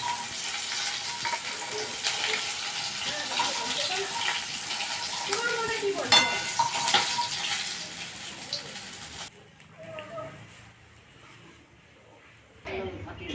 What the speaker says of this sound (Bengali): শুকনো লঙ্কার দুটো আর রাঁধুনি আর জিরে, এইগুলো আমি ফোড়ন দিয়ে দিলাম